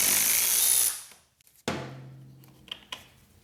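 A power tool loosens a fairing bolt on a Yamaha R6 sportbike in two short bursts, first a loud high whir that winds down, then a sharp start and a lower running drone with a few small knocks.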